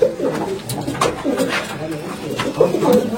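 Rampuri Malwai pigeons coo softly and repeatedly at close range, and their calls overlap with low human voices nearby.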